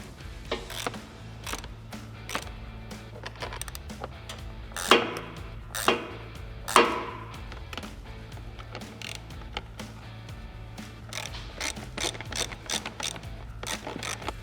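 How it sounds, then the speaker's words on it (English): Hardware on a SuperATV low-profile fender flare being tightened on a Can-Am Maverick X3, heard as close, irregular ratcheting clicks and metallic ticks with a few louder bursts, no talking. "we're just going to go ahead and fully tighten all of our hardware"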